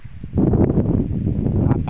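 Wind blows across a mountaintop in Quezon province, a close, buffeting rush that hits the microphone in uneven gusts, swelling after a quieter start and staying fairly loud with no speech.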